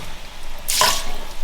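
Water from a tap pours into a pot of rice for washing, a brief close splashing gush that rises and then settles into a softer running sound, with no voices.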